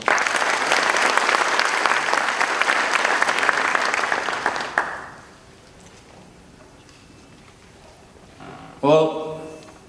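An audience applauds a guest at an Arab American community event in Wayne County, dense clapping for about five seconds that stops abruptly, followed by near silence and a brief voice at the end.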